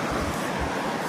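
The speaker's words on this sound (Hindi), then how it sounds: "ये सरस्वती नदी है दोस्तों, काफ़ी तेज़ आवाज़ आ रही है" The Saraswati river near Bhim Pul rushes loudly as a dense, continuous roar of water, close and steady throughout with no talk.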